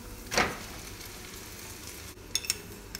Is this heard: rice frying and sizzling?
yes